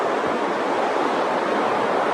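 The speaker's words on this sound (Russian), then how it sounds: "Это и есть сам океан." Pacific Ocean surf breaks on the shore in a continuous loud roaring wash of noise, steady and close with no voices.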